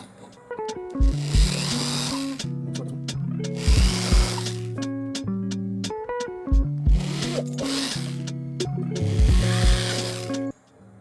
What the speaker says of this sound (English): Hole is drilled, or holes.